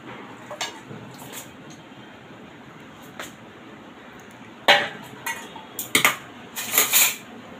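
Steamed hilsa fish is lifted onto a plate with sharp clinks of metal utensils against dishes, sparse at first and then clustering into quick rattling knocks near the end.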